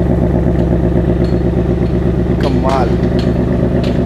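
Idling engine of a BMW ActiveHybrid 5 runs steadily throughout with a low, even drone, while people talk excitedly over it.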